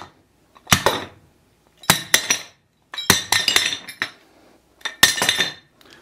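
A metal wrench strikes a Motorola Tundra phone in four close bursts of sharp, ringing metallic clanks, each a quick cluster of hits separated by brief silences.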